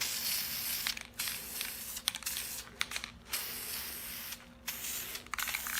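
Spray paint can hissing in bursts, with short pauses and rattling between sprays, close and fairly loud with no talking, painting a Star Wars Legion tabletop terrain black.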